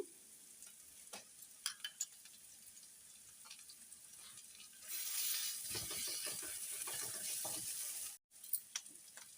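Ginger garlic paste hits golden-browned onions in a pan for a cashew mushroom curry, bursting into a loud, steady sizzle for about three seconds after some sparse stirring clicks, then cutting off abruptly.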